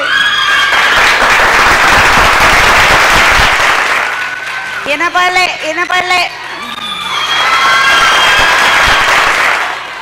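Audience at a women's day celebration at a sewing training centre claps loudly, with cheers and children's shouts; the applause dips briefly while a voice calls out, then swells again.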